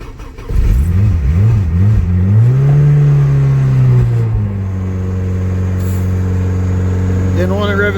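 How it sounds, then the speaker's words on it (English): A built turbocharged LS engine running on E85 rises and falls through a few revs on a cold start, then settles into a steady, loud drone, with a voice speaking over part of it. "Didn't want to rev it that high."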